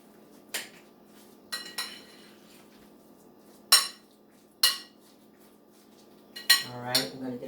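A spoon scrapes and clinks against a bowl as a salad is stirred, several separate metallic knocks spaced across quiet moments, close by, with a voice briefly heard near the end.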